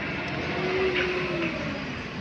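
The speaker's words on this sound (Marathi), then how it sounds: "आगगाडी आली, आगगाडी" A toy train ride at a fair arriving, giving a steady rumbling roll with a faint whistle-like tone running through it, continuous and fairly close throughout.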